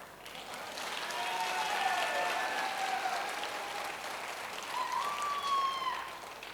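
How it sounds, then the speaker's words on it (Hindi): Audience at a Crown Diamond celebration event in Rajasthan applauding in a steady wash of clapping that swells and eases, with faint tonal sounds and murmuring in the hall. "आप लोगों की तालियां जबरदस्त हो ताकि ये ठीक हो जाए"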